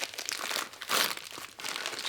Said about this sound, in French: On a un truc emballé, on va enfin ouvrir des...